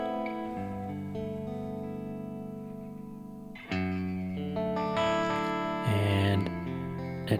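Electric guitar chords through an ILLUMINE reverb pedal set heel down with the mix turned low, sustained and close, with a short dry ambience and a louder strum change midway.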